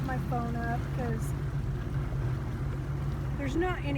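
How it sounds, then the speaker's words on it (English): Sea-Doo personal watercraft engine idling on a lake, a low steady drone close by with wind noise, while a person talks over it. "Put the Sea-Doo in neutral."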